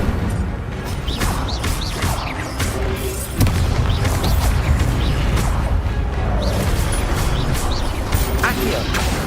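An Incendio fire spell in Hogwarts Legacy combat, mixed with other spells: loud, dense booms and crashes with sharp bursts over a continuous rumble of battle noise.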